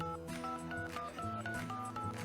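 Telephone keypad dialing tones beep in a steady sequence of short electronic DTMF tones, fairly faint and alone, with a constant background hum.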